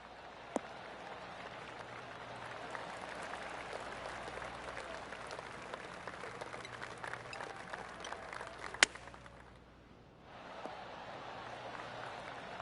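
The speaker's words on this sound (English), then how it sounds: "Oh, golf clap. That's a beauty." Soft, steady golf clap applause from a scattered crowd at a golf tee continues for several seconds, briefly fading before picking up again.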